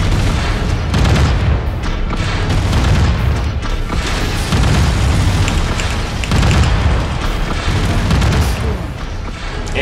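Mech guns and explosions in the video game MechWarrior 5 keep up a dense, loud barrage of booming blasts and gunfire without a break, with faint speech underneath.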